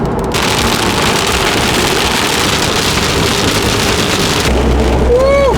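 Heavy rain roars steadily against a moving car, a dense constant wash of noise; near the end the rain cuts out and a brief whining tone slides upward.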